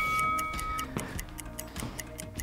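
A workout interval timer ticks at a steady, regular pace, each click fairly sharp and close, with a brief electronic beep near the start.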